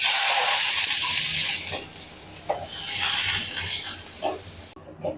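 Shallots and curry leaves frying in a pan give a steady loud sizzle and hiss that gradually eases, with a few stirring clinks and a short quieter stretch at the end.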